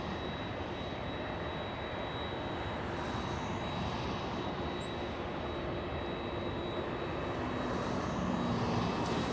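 Boeing 787 Dreamliner airliner at LAX airport, a steady broadband jet engine roar held at even loudness throughout, swelling slightly near the end, with no voices.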